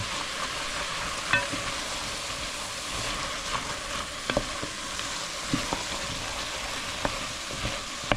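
Vegetables browning in fat in a pot for Louisiana jambalaya give a steady, moderate sizzle, with occasional sharp clicks of stirring scattered through it and no talk.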